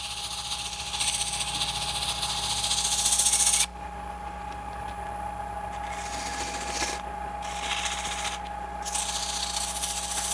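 Abrasive rasping of sandpaper against a spinning piece over a steady motor hum, the scratchy noise cutting in and out.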